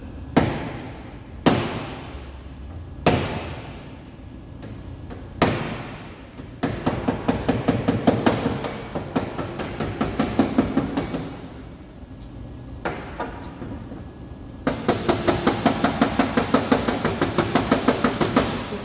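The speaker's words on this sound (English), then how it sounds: "just a little bit of hammer and dolly work there to show you" A hammer strikes against a dolly on car body sheet metal near a doubled hem flange during CRV emblem removal. Sharp, close metallic taps come first one at a time, then in fast repeated runs, with no talk.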